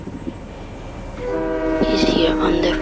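A train horn blares on a train in Fortnite, sustained and fairly loud, rising over background rumble with a voice speaking alongside.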